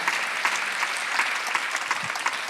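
Congregation clapping together in church at a Sunday worship service, a thick, even wash of many hands that stays at a steady volume through the short stretch.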